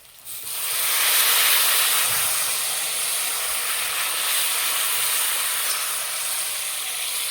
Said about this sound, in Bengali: সিদ্ধ করে রাখা ডাল দিয়ে দেবো